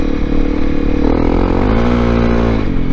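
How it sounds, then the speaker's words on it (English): A Honda CRF dual sport motorcycle rides a gravel road, its loud, close engine droning steadily and rising in pitch as it picks up speed, with wind and gravel noise underneath. "The CRF is an amazing dual sport machine."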